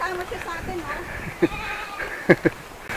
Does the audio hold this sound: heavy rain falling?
no